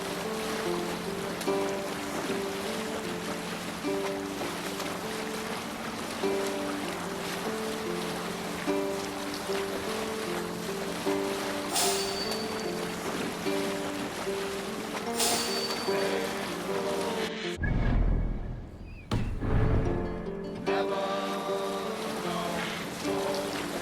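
Boat sailing across waves in the video game Assassin's Creed Valhalla, a steady wash of water and rolling surf with rain-like hiss under game music, broken near the end by a few heavy low splashes or thuds.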